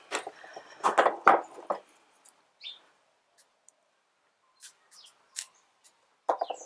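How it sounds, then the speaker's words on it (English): Close, crisp snips of scissors cutting through a succulent, a quick cluster of cuts followed by a few sparse clicks and rustles. "Scissors would be better."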